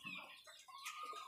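Chickens in a raised coop cluck softly and briefly, a faint close murmur of hen calls with no talking.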